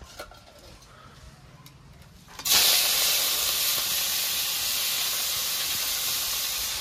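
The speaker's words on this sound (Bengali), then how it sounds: "তেলটা গরম হয়ে গেছে, এবার চিংড়ি মাছগুলো ভেজে নেব।" Shrimp coated in salt and turmeric hit hot oil for a gourd curry: after a quiet moment, a sudden loud hiss bursts in and continues as a steady, bright sizzle close by.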